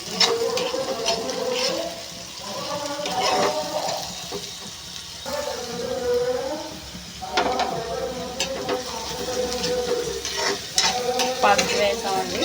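Ivy gourd (tindora) pieces sizzle steadily in a hot pan while a spatula stirs them in repeated scraping sweeps, the frying hiss continuous and moderately close.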